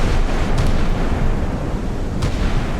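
Naval video game warships firing, a pair of heavy booming artillery blasts spaced about two seconds apart over a loud continuous rumble of battle.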